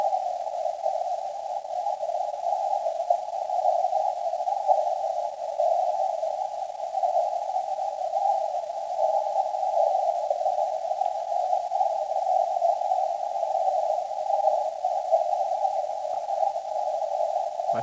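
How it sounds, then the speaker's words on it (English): Weak RTTY amateur radio signals on the 40 and 30 meter bands come through as a steady narrow warbling tone over faint hiss, continuous for the whole stretch. "we got weak signals on 40 meters and 30 meters"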